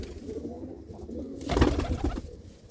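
A pigeon from a nesting pair with eggs coos softly and closely, a low throaty burble rising in a short phrase over quiet background noise.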